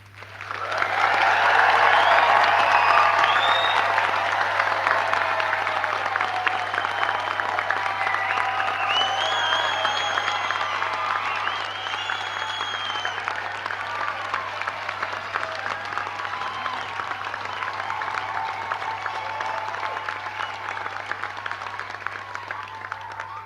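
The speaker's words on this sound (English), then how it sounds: "let's raise this roof with a final round of applause to congratulate our graduates" Sustained applause and cheering from a large graduation audience of Health & Social Care Professions graduates, loud at first then tapering slightly but continuing steadily throughout.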